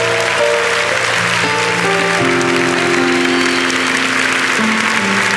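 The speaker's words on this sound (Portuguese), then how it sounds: "aplauda o seu glória a Deus" A church congregation claps together during a youth Catholic gathering, a dense, loud, continuous wash of applause in a reverberant hall, with sustained organ or keyboard notes held underneath.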